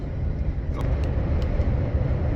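Steady low rumble of a vehicle driving on a road while following a convoy's lead vehicle, with continuous road and engine noise and a few faint clicks.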